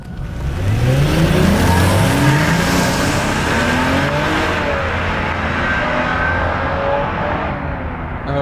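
A 2022 Lexus LC500h hybrid coupe pulls hard up to freeway speed with a loud engine note climbing steadily. It is heard from inside the car, with heavy road and wind noise and no talking.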